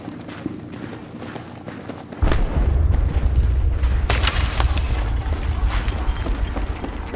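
In the Battlefield 3 video game, ammo dumps explode in a sudden deep boom that gives way to a sustained heavy rumble with scattered crackling debris, loud and fairly distant-sounding.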